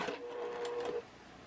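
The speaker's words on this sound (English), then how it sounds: "So what I'm going to do is I'm just going to continue sewing" A sewing machine stitches a pillow cover made of lining fabric and a quilted pillow top, a quick, close burst of rapid mechanical whirring lasting about a second before it stops.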